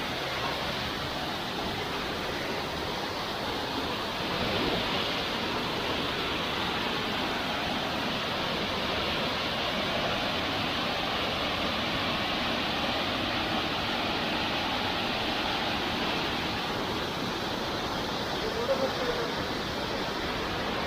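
Phurlijharan waterfall in Kalahandi roars with rushing water, a steady broadband wash that stays constant and close throughout, with no clear talk above it.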